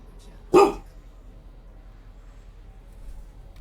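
A puppy gives a single sharp bark, close and fairly loud, followed by quiet room sound.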